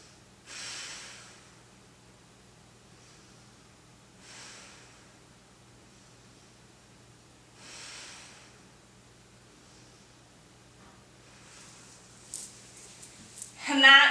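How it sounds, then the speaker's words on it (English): Slow deep breaths taken while resting in child's pose after handstand practice, three soft exhales spaced a few seconds apart, faint and close, with a brief rustle at the end. "Take a few deep breaths."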